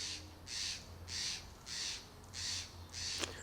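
A crow caws angrily outdoors, five harsh evenly spaced calls about half a second apart, moderately distant over faint background hum.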